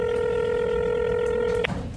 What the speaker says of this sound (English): AJ picks up the phone to call his editor